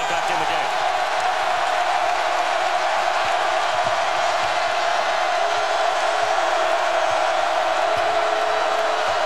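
A basketball arena crowd during a Kentucky at Auburn college game roars after a made three-pointer, a sustained, loud wall of cheering and shouting that holds steady throughout, with a commentator's voice faintly underneath.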